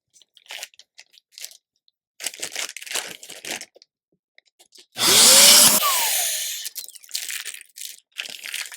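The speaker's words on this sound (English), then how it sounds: "I put a vacuum hose on that right there" A vacuum hose suctioning a plastic bag wrapped around a quilt gives a loud, roaring rush of air with crinkling plastic that lasts about a second and then tapers off, between bursts of rustling handling noise.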